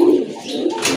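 A close, loud coo from pigeons at a seller's stall rolls on for about a second, with a brief brighter flutter near the end.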